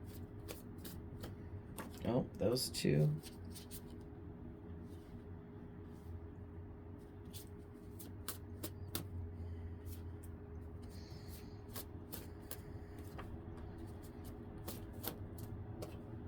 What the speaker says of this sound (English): Let me give the orange deck one last shuffle